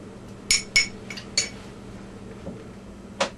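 A utensil clinks against a bowl while spice paste is mixed for rubbing onto flat iron steak, several bright metallic taps in a quick irregular cluster, then a single final clink after a pause, close and clear with no talking.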